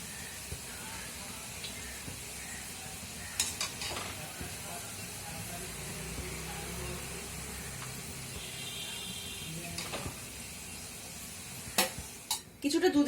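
Sliced onions frying in hot oil for chicken biryani give a faint, steady sizzle with occasional sharp clinks of a spatula against the pan, and a few louder knocks near the end.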